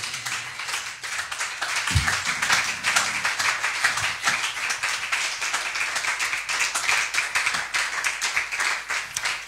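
In a church service, a congregation claps continuously in a dense, even applause to acclaim the Lord. The clapping sounds close and lively and carries on without a break, with a faint voice briefly underneath.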